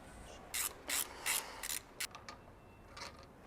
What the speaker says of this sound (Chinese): 拆下这个顶链器